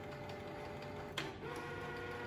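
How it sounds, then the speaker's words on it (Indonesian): An office printer runs quietly through a page with a faint, steady mechanical whir and one brief click partway through. "lalu kita print, maka nanti akan terprint halaman keduanya saja."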